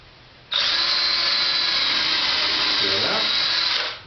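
A power drill whines steadily at high speed for several seconds, bogging slightly as it bites into wood drilling a pilot hole for a bird house, then spins down; a voice speaks underneath.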